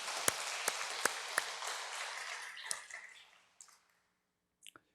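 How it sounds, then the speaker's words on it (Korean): A church congregation gives its choir a warm round of applause, a dense patter with a few crisp claps that tapers off after about three seconds into near silence and faint stray sounds. "격려의 박수 한번 보내주시면 좋겠습니다"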